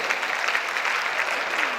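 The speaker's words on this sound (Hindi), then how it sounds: "एक बार जोरदार तालियों के स्वागत के नाम करते हैं" A crowd at an evening devotional gathering honoring the Yamuna river goddess in Indore gives a burst of hearty applause. Dense, even clapping, loud and unbroken, with no one talking over it.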